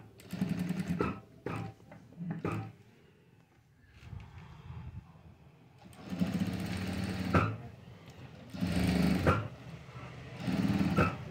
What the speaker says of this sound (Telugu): ఇలా మనం స్టిచ్చింగ్ చేసేసుకోవాలి. ఇలా కుట్టు వేసేసుకోవాలి.